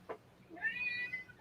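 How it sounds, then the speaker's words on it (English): A neighbor's cat meows close by: a brief low call, then a longer rising, drawn-out meow standing alone in a quiet room. "The neighbor's cat is meowing at me."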